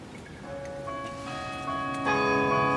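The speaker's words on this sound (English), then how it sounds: "we hear the famous City Hall bells begin to chime" The Oslo City Hall bells chime during the Nobel Peace Prize ceremony, ringing tones layering and building in loudness, resonant and sustained, with no speech over them.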